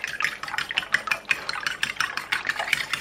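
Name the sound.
whisking eggs with vanilla extract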